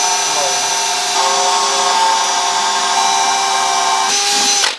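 A power drill bores out the bumper mounting tabs on a truck during a BSB FAB front bumper install, giving a steady, loud, continuous whine that holds for nearly five seconds before cutting off.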